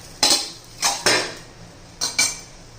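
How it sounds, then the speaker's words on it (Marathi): A metal lid is set back onto a cooking pan holding a semolina and raw onion breakfast, giving five sharp, close metallic clinks in quick pairs with no voices. "आता पुन्हा झाकण ठेवूया एखादा मिनिट"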